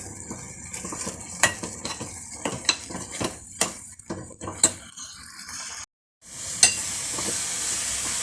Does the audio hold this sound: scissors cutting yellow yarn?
no